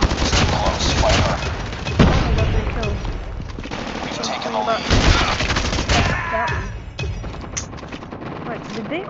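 Gunfire in the mobile shooter Call of Duty Mobile comes in loud, close bursts of rapid automatic shots with sharp single cracks between them, while players talk excitedly over the shooting.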